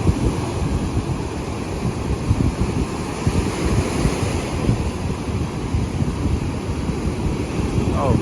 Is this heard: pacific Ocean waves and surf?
yes